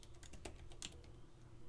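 Quick, light clicks of typing on a computer keyboard, a brief burst of irregular keystrokes heard close up and fairly quiet, with no talking.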